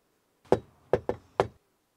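Four sharp knocks on a door in a quick uneven pattern, one, then a pause, then a fast pair and a final rap, close and crisp in an otherwise quiet room.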